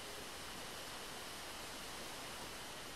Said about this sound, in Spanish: La cascada.